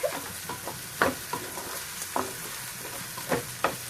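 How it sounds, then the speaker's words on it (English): Onions frying for lamb curry in a pan, a steady close sizzle broken by repeated scraping stirs roughly every half second, with no talk over it. "She's just going to brown up the onions like she said"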